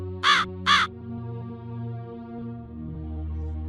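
Two loud crow caws close together in a Bengali animated cartoon, followed by quieter sustained background music.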